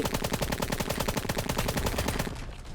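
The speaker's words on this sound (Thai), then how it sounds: "นี่ไง มันยิงมาแล้ว" Sustained rapid gunfire in the war game Call to Arms, a Black Hawk Down battle scene, with dense overlapping automatic bursts at a steady rhythm that cut off abruptly near the end.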